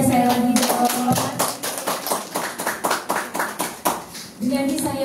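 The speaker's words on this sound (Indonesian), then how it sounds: "Semua narasumber kita hari ini boleh kita tepuk tangan aja" Applause from a press conference audience for the speakers breaks out between stretches of talk, a sparse run of individual claps rising and falling before voices return.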